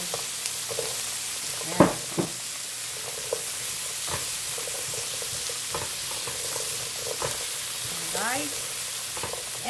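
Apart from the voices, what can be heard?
sautéing potatoes and bay leaves for chicken katsu curry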